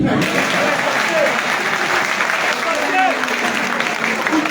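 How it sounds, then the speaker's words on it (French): A crowd at a teachers' union general assembly claps steadily and fairly loudly throughout, with a faint murmur of voices mixed under the applause. "applaudissez pour tous ceux qui étaient contre nous"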